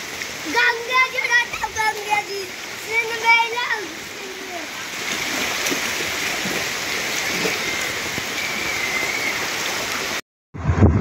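Heavy rain floods a market street while children bathe in the water and shopkeepers stand by their shops: a steady wash of rain and splashing water runs throughout, with voices talking over the first part.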